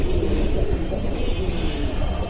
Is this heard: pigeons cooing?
yes